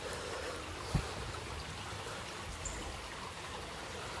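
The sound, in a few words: river flowing under a bridge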